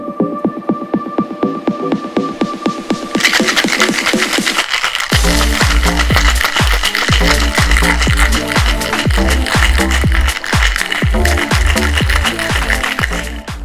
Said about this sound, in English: And then we're gonna grab our ice and shake it up.